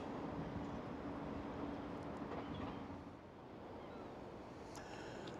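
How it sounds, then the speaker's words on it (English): Waves break on Blackpool beach early in the morning, making a steady, full wash of surf with a soft wind rush. The sound eases slightly partway through, and no voices are heard. "I've decided to come down onto the beach."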